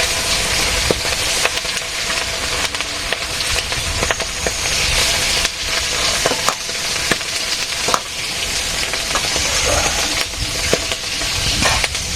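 Potato, okra and eggplant curry cooking in hot oil, with loud, continuous close sizzling broken by frequent clicks and scrapes of stirring.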